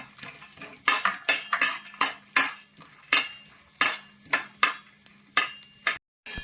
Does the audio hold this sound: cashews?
yes